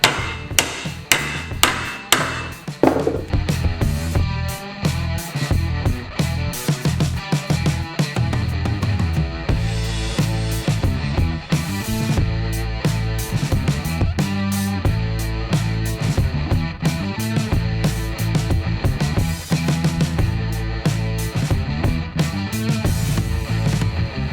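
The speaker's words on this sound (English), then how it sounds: "you probably saw me earlier striking with a hammer" Sharp, rapid hammer strikes ring out on metal while changing universal joints on a Suzuki Samurai, a quick burst at first, then a steady stream of ringing blows continuing throughout.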